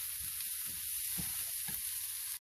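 Onions sauté in a little vegetable oil with a steady, bright hiss throughout, while soft low stirring scrapes recur about every half second beneath it.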